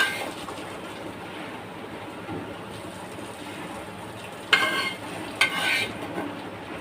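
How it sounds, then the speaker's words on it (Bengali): Pieces of rohu fish belly fry in oil in a pan, giving a steady soft sizzle throughout with two brief louder crackling spurts near the end. "হয়ে গেল মাছ ভাজা, রুই মাছের পেটি ভাজা হয়ে গেল।"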